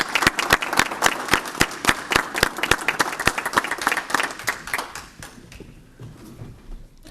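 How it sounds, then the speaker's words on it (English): Rhythmic, evenly spaced applause for a department recognition at a Board of Estimate and Taxation meeting, crisp claps in a steady beat for about five seconds before fading to quiet room sound. "join me in a moment of applaud for him"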